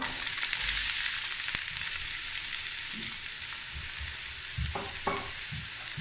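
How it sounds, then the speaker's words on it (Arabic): Onion frying in olive oil in a pan makes a continuous sizzle, crackling and steady at first, while a utensil knocks and stirs a few times near the end. "غادي نحتاجو مقله نديرو فيها شويه زيت البلديه، نديرو البصله"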